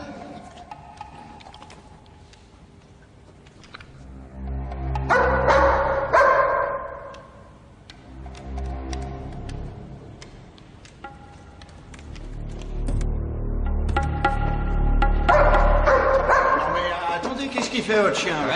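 A dog barks in repeated bursts, some loud and close, mixed with yips and whimpers, while people speak French in between and over the barking.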